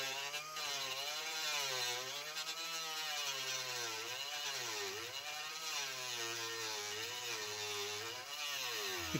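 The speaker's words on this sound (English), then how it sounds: "I think now I'll use a die grinder." Die grinder cutting a square hole in a metal generator faceplate, a continuous high whining grind whose pitch wavers up and down as the load changes, steady and close with no talk.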